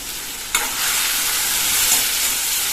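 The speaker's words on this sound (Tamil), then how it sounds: "அடுத்தது சின்ன வெங்காயம், ஒரு கொத்து கருவேப்பிலை சேர்த்து நல்லா வதக்கிக்கணும்." Tomato, shallots and curry leaves frying in a pan for a lentil chutney, a steady loud sizzle starting abruptly after a brief clatter and continuing evenly with light stirring.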